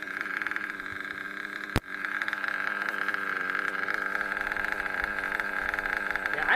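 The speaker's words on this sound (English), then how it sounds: "Yeah, idle seems to idle okay. It's not running right." An engine idles after repair work, running unevenly with a steady mid-pitched hum and a faint pulsing roughness, nearby; a single sharp knock cuts in early, and no one talks.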